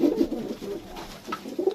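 Fancy pigeons brought home in a bag coo in soft, low, rolling calls that repeat close by without pause, with no talking over them.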